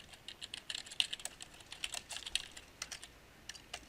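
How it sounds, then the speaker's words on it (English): Quick, uneven clicks of fingers typing on a computer keyboard, a close burst of light key taps with short pauses between, no speech. "you can type that in"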